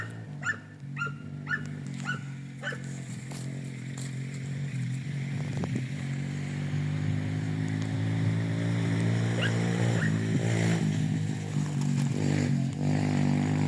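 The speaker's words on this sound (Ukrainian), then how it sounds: "Погналися на мотоциклах" Motorcycles passing along a rural road during a walk with goats, their engine drone steadily building and holding loud and near. A dog barks rapidly several times at the start.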